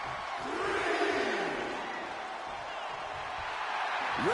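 Arena crowd in a WWE 2K26 wrestling video game, a steady roar of cheering and yelling, moderately loud and sustained throughout, with a commentator's voice partly heard.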